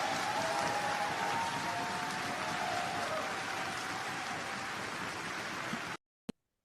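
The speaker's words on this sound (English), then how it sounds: "You can join in that applause if you like." Audience applause following a governor's speech at the Virginia General Assembly: dense, steady clapping that fills the room at an even level for about six seconds, then cuts off abruptly, with one brief sharp sound after.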